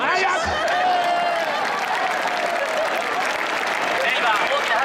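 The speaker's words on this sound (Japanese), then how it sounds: "今大きな拍手が沸きましたが" A stadium crowd at a Giants versus Dragons baseball game applauds during a post-game hero interview, a dense, loud, continuous wash of clapping with a voice talking over it.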